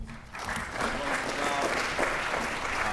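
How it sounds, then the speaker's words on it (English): Luncheon attendees give the panel another round of applause, a full, even wash of many hands clapping that swells in after a brief quieter start and carries on steadily. "Another round of applause for our panel, please."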